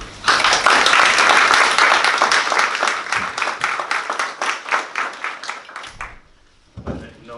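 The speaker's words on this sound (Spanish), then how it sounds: "Así que un aplauso" An audience gives a round of applause after thanks are given at a talk. Dense, steady clapping runs strong for about five seconds, thins into scattered claps, stops near six seconds, and a brief voice follows.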